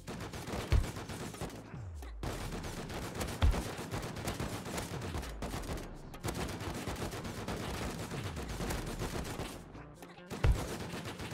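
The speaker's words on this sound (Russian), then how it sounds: "Я стреляю, им пофиг." Gunfire in the video game Rust at an oil rig: repeated bursts of automatic shots crackle throughout, with a few sharper, louder single reports standing out over a constant dense, noisy in-game background.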